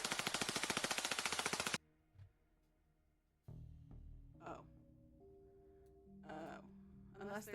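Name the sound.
gunshots fired at a zombie in video game The Darkside Detective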